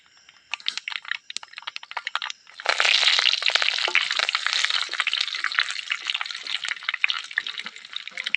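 Mustard seeds and curry leaves dropped into hot oil, first scattered crackling pops of the seeds, then a sudden loud, dense sizzle as the leaves hit the oil, continuing steadily.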